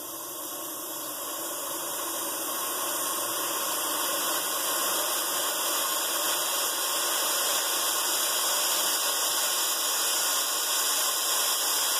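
Compressed air rushes through a crankcase catch can rated for 1,000 horsepower with a number 10 single inlet at about 3 psi, a loud, steady hiss with faint whistling tones that swells slightly and then holds constant.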